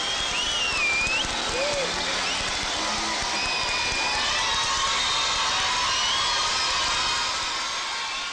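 Crowd of West Berliners welcoming the Queen, steady broad applause and cheering spread evenly across the whole stretch, with faint whistles and shouts above the clapping.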